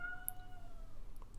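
A cat-like wail from Game of Thrones playing on a TV in another room, heard faintly in a brief, steady, distant burst with a high tonal cry over low room hum.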